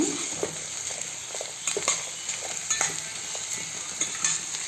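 Ridge gourd fries in a pan for an Andhra-style chutney, a continuous soft sizzle with occasional light scrapes and taps of a stirring spoon against the pan.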